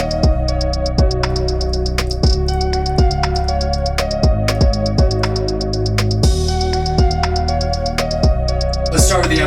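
Dry electronic synth beat with no reverb: steady, evenly spaced kick and percussive hits under sustained synth tones, a loud, continuous groove with no spoken voice.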